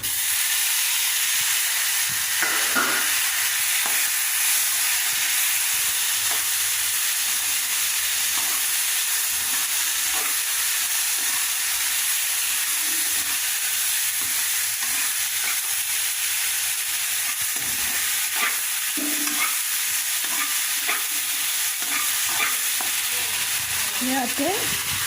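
Chopped tomatoes sizzle and fry steadily in a hot pan, a constant bright crackling hiss lasting throughout, with occasional faint stirring clinks and no talk.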